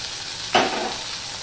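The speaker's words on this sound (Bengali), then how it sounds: "এবারে দেখো আমি এখানে আদা নিয়ে নিয়েছি হাফ চামচের মতন, দুটো লঙ্কা নিয়ে নিয়েছি আর টমেটো নিয়েছি, সেগুলো আমি দিয়ে দিলাম।" Ginger, green chillies and tomato hit hot oil in a pan, bursting into a sudden loud sizzle that settles into steady frying hiss.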